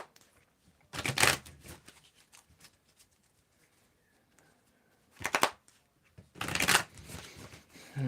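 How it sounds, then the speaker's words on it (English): Tarot cards are shuffled close by in three short riffling bursts, each about a second long, with quieter handling sounds between them. "Tell me when to stop shuffling here."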